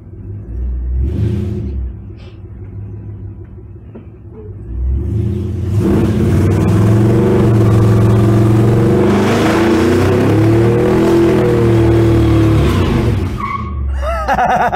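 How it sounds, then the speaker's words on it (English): Car revving hard and sliding to break in a new set of tires, a loud engine roar with squealing, skidding tires after a quieter idling start, close and continuous for several seconds. "That's how you break in a new set of tires."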